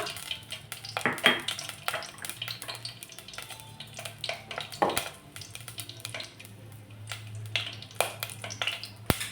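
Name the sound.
dried red chillies frying in oil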